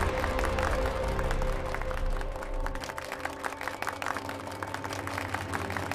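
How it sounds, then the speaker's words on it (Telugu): Audience applause at a contest on a Telugu TV serial, a steady wash of clapping that continues throughout, loud and close, over sustained musical tones. "చప్పట్లు."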